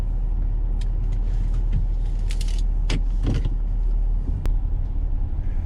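A car's steady engine rumble fills the interior while driving past a property, with faint clicks and jangles of keys over the continuous low drone and no talking.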